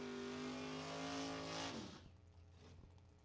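A Camaro drag racing car at a bracket racing event unleashes a loud, high-revving engine scream that drops sharply in pitch as it pulls away, fading into a lower, distant rumble.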